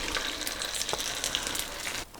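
Egg and milk mixture frying in a knob of melted butter in a frying pan over medium heat: a steady, close, even sizzle that holds throughout, then drops off sharply near the end.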